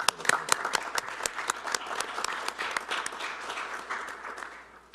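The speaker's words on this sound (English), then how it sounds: "Can we have a round of applause, please?" Applause fills a village board meeting in Bartlett, a fairly faint but distinct patter of individual claps from a modest crowd, continuing evenly and tapering slightly at the end.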